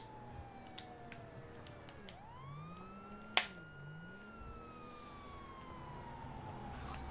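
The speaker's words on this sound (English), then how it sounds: "That's the sound of the police!" A police siren in Grand Theft Auto V wails in a long falling and rising sweep, mid-distance, with a sharp snap-like click partway through and no talk.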